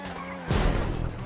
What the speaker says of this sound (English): And as we watch this guy trash his F1 car